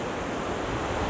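Ocean surf at Watu Lepek beach in Malang washes in a steady, broad roar, with wind buffeting the microphone and no other sounds standing out.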